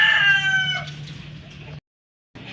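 A rooster crows loudly nearby, followed by softer clucking from hens, a brief silence, then more faint hen sounds in a backyard chicken pen.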